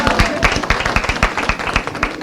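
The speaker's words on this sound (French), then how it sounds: "Il faut vous applaudir" An audience during a university visit claps in a brief burst of scattered, rhythmic hand claps, fairly close and loud, with voices mixed in.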